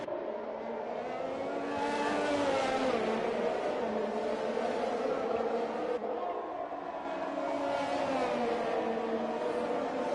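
Formula 1 cars racing at Singapore in F1 2021: a loud, sustained high-pitched engine whine that rises and falls through gear changes, with a second pass of screaming engines after a brief dip, and faint commentary beneath.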